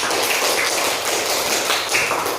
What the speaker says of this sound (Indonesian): Kasih tepuk tangan untuk penampilan dari kelompok satu.